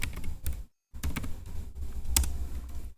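Router configuration commands are typed on a computer keyboard in quick bursts of close key clicks, broken by a short silent pause, with no voices.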